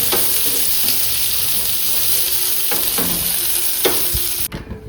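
Squid sizzles and fries in a hot pan as it is stirred, a continuous crackling hiss with a few scraping strokes of the spoon, close and fairly loud with no talking.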